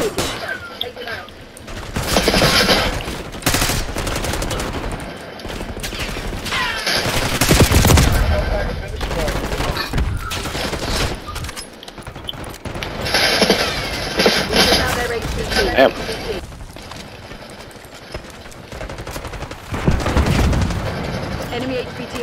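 Gunfire in the Black Ops 6 beta, with rapid bursts of automatic fire and repeated shots with occasional booms over about twenty seconds, mixed with in-game voices and game noise.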